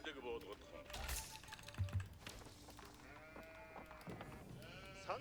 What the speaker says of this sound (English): There's black sheep now.